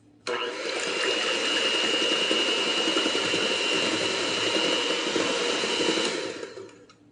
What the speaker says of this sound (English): I'm going to go ahead and mix this a little bit